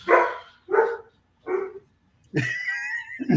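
A few dogs bark in a quick run of four loud, close yips and barks, the last ones sharper and more high-pitched, almost whimpering, with no talk over them.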